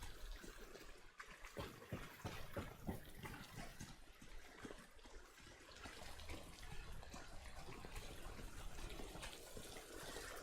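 Steady downpour of rain in the game Death Stranding, a dense hissing wash of drops that stays even and close throughout, with no voices.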